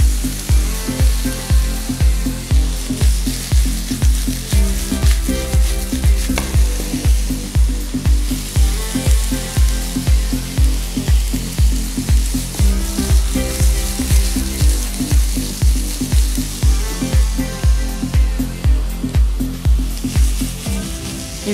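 Veal fries with bell pepper in a pan, a loud continuous sizzle close up with a regular pulsing beat running evenly underneath from start to finish.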